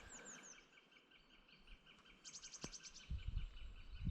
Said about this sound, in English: That almost sounded like a grouse or something like that.